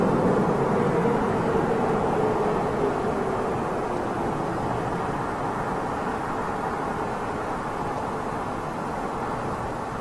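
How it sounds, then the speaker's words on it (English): An Air India Boeing 787 Dreamliner touching down at London Heathrow, heard as a broad steady roar of engine and rushing air that holds at a fairly even level and eases slightly as the aircraft rolls along. "Air India's Dreamliner just touching down there."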